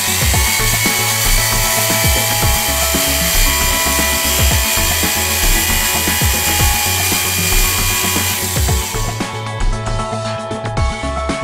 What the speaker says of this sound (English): Nodlock conducts a Junker machine test as per DIN 65151 to test and compare the security of bolted joints.